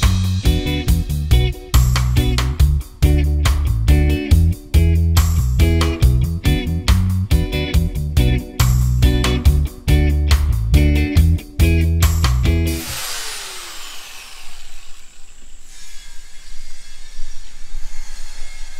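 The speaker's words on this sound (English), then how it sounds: "As you can hear the sounds of construction going on in the background, a lot of things going on." Construction work at a house-building site in the Philippines: loud, choppy power-tool noise grinds in rapid bursts for about thirteen seconds, then gives way to a fading, hissing wash.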